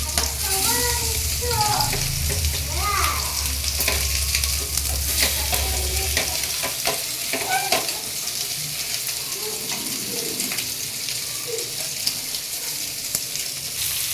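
Oil sizzles steadily as food fries over a high flame, a broad continuous hiss with scattered spatters and faint clinks, holding through the whole stretch without talk.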